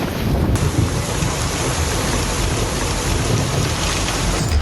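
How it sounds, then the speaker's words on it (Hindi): Roaring flood water of the swollen Ganges river at a ghat in Kashi, a loud, continuous rushing wash with no pauses throughout. "जिस मकान में कभी हंसी खुशी की गूंज थी, वहां अब सिर्फ पानी का शोर है।"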